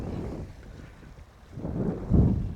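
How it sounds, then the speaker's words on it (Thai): Wind buffets the microphone at a harbour where oil tankers dock, a steady low rumble that swells louder toward the end with gusts, no voices. "มันเป็นท่าเรือนะครับ เป็นท่าเรือที่ว่าเรือน้ำมันจอดอะ"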